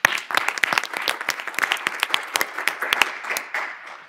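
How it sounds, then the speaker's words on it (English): A board of education meeting audience applauds students in a round of scattered, distinct handclaps that build briefly and hold steady before tapering off near the end. "Can we again have a round of applause for these students?"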